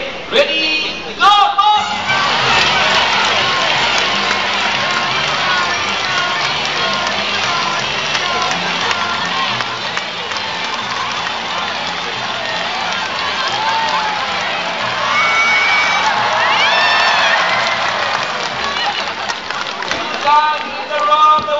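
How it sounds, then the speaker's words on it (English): A large crowd of supporters cheers and whoops loudly and steadily at a bird basketball game, with energetic shouting and applause sustained throughout, swelling again near the end. "remember now, coffee supporters, cheer much louder"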